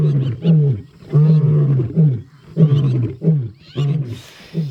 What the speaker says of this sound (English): They let off one serious roar